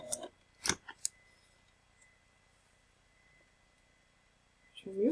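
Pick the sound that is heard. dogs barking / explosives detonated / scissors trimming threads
scissors trimming threads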